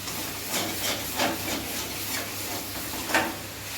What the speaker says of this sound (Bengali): আর একটু কষানো হবে।